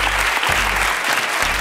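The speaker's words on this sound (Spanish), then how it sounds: "Un aplauso, por favor," A studio audience at the Spanish TV quiz show Boom breaks into sustained, loud applause, a dense wash of clapping that holds steady for the whole moment.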